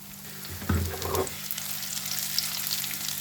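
Potatoes for palak dum aloo fry in a pan with a steady, close sizzle and a brief clatter as they settle in the hot oil.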